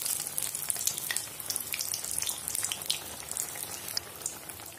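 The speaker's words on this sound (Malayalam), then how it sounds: "രണ്ട് സൈഡ് നന്നായിട്ടൊന്ന് ഫ്രൈ ചെയ്തെടുക്കണം." Onion bajji frying in hot oil: a dense, steady crackling sizzle with fine popping bubbles, close and continuous throughout.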